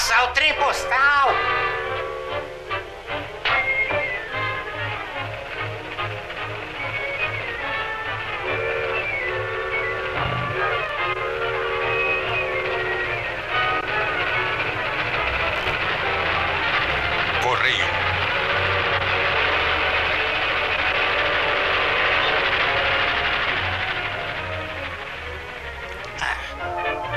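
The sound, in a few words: mail train in a 1935 cartoon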